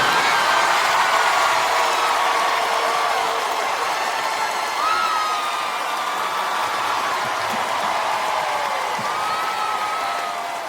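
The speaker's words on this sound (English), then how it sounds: "Round of applause for Riley here." A concert audience applauds and cheers, a dense, continuous roar of clapping and shouting that holds steady and fades slightly toward the end.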